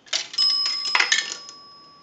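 A dime passes through a Northern Electric three-slot payphone and trips its coin bell, giving bright, close metallic rings with a sustained tone that lingers and slowly decays, heard alone without speech.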